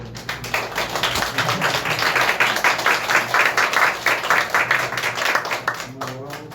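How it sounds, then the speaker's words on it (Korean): Church congregation clapping together at a Sunday service, a loud sustained burst of rhythmic hand claps with voices mixed in, building briefly and then tapering off as it ends. "박수 한번 주십니다."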